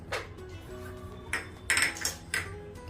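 Cumin, fennel and coriander seeds roast in a pan over a medium gas flame, giving a few scattered light clinks and ticks of stirring against the pan over a faint background hum.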